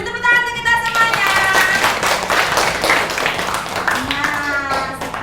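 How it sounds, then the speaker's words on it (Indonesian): Children in a classroom clap together in a loud, fast, close burst of applause that runs the whole time, with children's voices and a teacher talking over it. "Beri tepuk tangan untuk kita semuanya."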